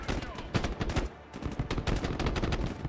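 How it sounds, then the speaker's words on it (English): Heavy gunfire in the video game Broken Arrow during a night operation: dense, rapid bursts of automatic fire and overlapping shots, loud and continuous with a brief lull midway. "Laying down some very, very heavy fire, though."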